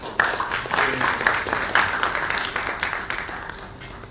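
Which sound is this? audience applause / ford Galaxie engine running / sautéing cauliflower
audience applause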